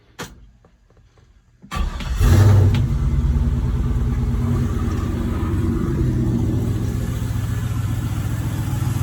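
An LS-swapped 1966 Chevrolet C10 pickup cranks briefly after near silence, catches and fires, then settles into a loud, steady rumbling idle with a short rev right after startup, close to the truck.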